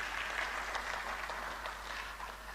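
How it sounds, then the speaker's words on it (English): Audience at a university annual lecture applauds the acting registrar, a soft, even wash of distant clapping held steadily throughout under a low hum. "Please, a round of applause for her."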